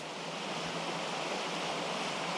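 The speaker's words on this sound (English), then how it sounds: "Little water chute coming through here and all that rock out there" A small water chute runs over rocks along a wilderness trail in Cranberry Wilderness, giving a steady, even rush of water that holds at the same level without a break.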